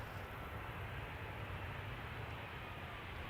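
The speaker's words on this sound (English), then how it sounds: "this is Transavia returning from Innsbruck" Transavia Boeing 737-700 airliner at Amsterdam Schiphol Airport, back from Innsbruck, gives off a steady broadband jet engine roar with a heavy low-frequency rumble, moderately distant and continuous, with no voices over it.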